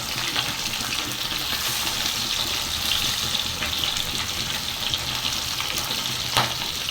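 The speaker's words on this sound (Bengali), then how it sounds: "মাছগুলো খুব সাবধানে ভাজতে হবে দুদিকটা ভালো করে লাল লাল করে ভেজে নিতে হবে" Pabda fish fry in hot oil in a pan, giving a continuous close sizzle and crackle with a soft watery hiss. It stays steady throughout, ending with a slightly sharper spatter.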